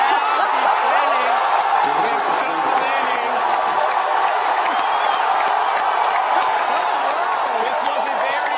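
Loud crowd cheering, whooping and applause fill a room for a Falcon 9 first-stage landing on a drone ship in the Atlantic after the JCSAT-14 launch, a steady dense roar with chatter and shouts throughout.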